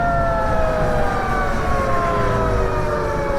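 Electric race bike slowing under its regenerative braking throttle, a steady whine of several tones sliding gradually downward in pitch over wind and road rumble, loud and close throughout, with no talking.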